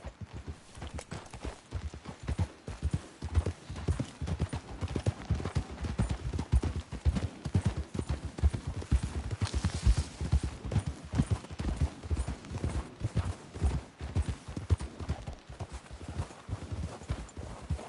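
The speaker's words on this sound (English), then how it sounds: "We should leave the horses." Horses walk at a steady pace in Red Dead Redemption 2, hooves clip-clopping in a dense, continuous rhythm that stays close and fairly loud throughout, with a faint whinny and no speech over it.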